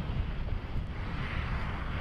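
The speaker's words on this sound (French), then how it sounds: "il y a des rafales à plus de 30 km/h voire 40" Strong gusts of 30 to 40 km/h sweep across a golf course, buffeting the microphone with a constant broadband roar that swells and dips, fairly faint overall and without talk.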